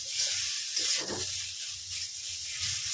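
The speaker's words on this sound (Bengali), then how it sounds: "এবার যে পাত্রে আমি ওটাকে মাখিয়েছিলাম, যে থালাটায়, সেই ধোয়া জলটা দিয়ে দিলাম।" Washing water from a mixing plate poured into a hot pan of fried okra, a close, continuous steamy hiss with soft bubbling that rises and falls, no speech.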